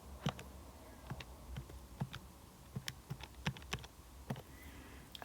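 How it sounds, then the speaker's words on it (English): Button presses on a calculator while numbers are keyed in for a maths calculation, heard as sparse, irregular clicks of varying spacing, close and fairly quiet over a low background hum. "if I type that into my calculator here"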